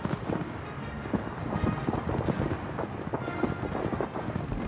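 Naval gunfire from the battleship Yamato in the World of Warships video game, heard as a dense run of sharp booming bursts and rumbling impacts that crackle irregularly throughout, with no voices.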